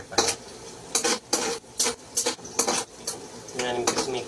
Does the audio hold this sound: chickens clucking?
no